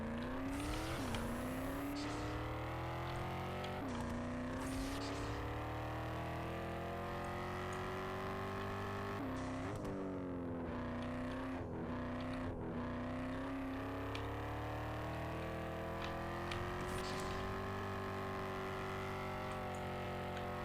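Engine of a car driving off-road in Need for Speed, a steady loud drone that climbs and dips as the revs change with several quick shifts, continuous throughout and without talk.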